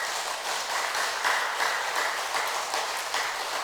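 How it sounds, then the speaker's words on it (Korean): An audience at a church gathering applauds steadily, a dense, even wash of many hands clapping at once that holds at a moderate level from start to finish. "이 대목에서 박수 한번 쳐주십시오"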